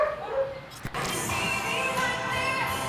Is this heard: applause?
no